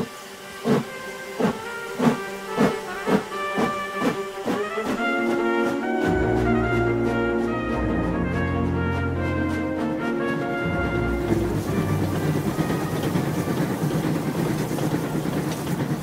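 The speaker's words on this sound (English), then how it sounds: "Fogg, Mrs. Aouda, Passepartout and Fix get on the train that evening." A steam train runs as a sound effect, with rhythmic chuffing that begins in distinct bursts, then merges into a steady hissing, rumbling roll accompanied by a low tonal whistle-like drone.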